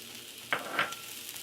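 Shrimp, sweet potato and kale fry in a skillet with a steady low sizzle, broken by two brief louder bursts of stirring or tossing.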